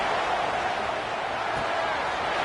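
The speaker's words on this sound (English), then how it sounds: "Listen to the crowd energy here in the early going." A stadium crowd at an NCAA football game roars as a steady, loud, dense wash of cheering with no breaks.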